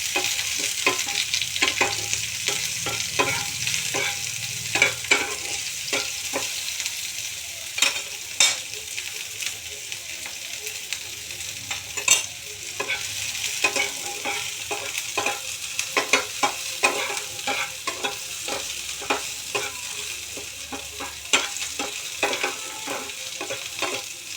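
Onion fries in a pan with a constant soft sizzle, broken by frequent sharp scrapes and clicks of stirring that continue throughout.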